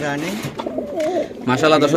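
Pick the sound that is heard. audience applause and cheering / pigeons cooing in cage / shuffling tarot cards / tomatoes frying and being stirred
pigeons cooing in cage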